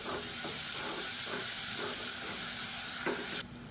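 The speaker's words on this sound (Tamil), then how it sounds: "1 டேபிள் ஸ்பூன் இஞ்சி பூண்டு சேர்த்து வதக்கி விட்டுக்கலாம்." Ginger garlic paste sizzles steadily with browned onions in a hot pan while cooking Bai-style kuska, a continuous loud frying hiss broken by periodic scraping stirs, ending abruptly.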